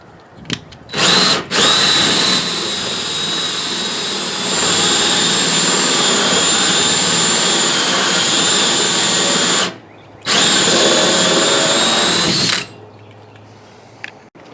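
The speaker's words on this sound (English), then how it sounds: "when drilling the hole, you want to just start your pilot, put your drill in reverse" A power drill whines steadily at high speed for long stretches, drilling through the plastic of an RV black tank, stopping briefly and restarting, loud and close with no talking.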